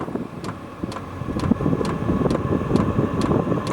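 A Vevor diesel heater running off a 12-volt car battery, giving a steady, close mechanical whir and rumble with regular faint ticking pulses about every half second.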